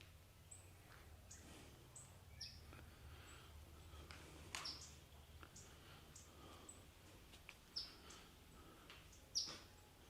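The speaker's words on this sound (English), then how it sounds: "Yeah, it's just a bird, thankfully." A bird calls in a forest with faint, sharp chirps spaced every second or two over quiet rustling background.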